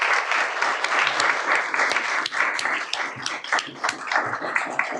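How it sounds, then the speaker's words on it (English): Audience applauding candidates at a League of Women Voters candidate forum, steady crowd clapping with sharp individual claps standing out, moderately loud and continuous from start to finish. "Let's give these candidates a round of applause"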